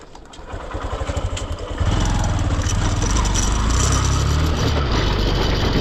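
A motorcycle carrying two riders off-road, its engine chugging in a loud pulsing rhythm that swells to a steady roar as it accelerates, close and continuous with no talk.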